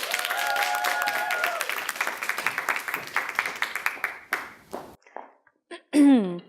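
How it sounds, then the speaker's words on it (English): Audience applause for a young speaker at a speaking competition, dense at first then thinning into scattered individual claps, with a brief whoop and a short voice near the end. "Please give a huge round of applause for her speech entitled Horses as Teachers"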